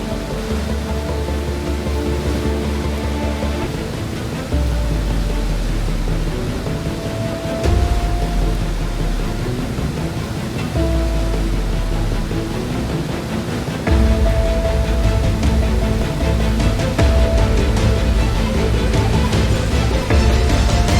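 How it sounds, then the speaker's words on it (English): A powerful river rushes and funnels beneath a bridge in Sweden or Norway, giving a loud, steady roar of churning water that surges in level from moment to moment, with no voices. "I came down to have a look at this incredible river where it kind of funnels under this bridge. It's so powerful."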